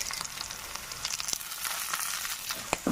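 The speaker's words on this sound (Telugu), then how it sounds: "ఉల్లిపాయ ముక్కలు అవి ఎర్రగా వేగిపోతున్నాయండి." Onion pieces fry and brown in hot oil with a steady, close crackling sizzle and occasional sharper pops, no voices.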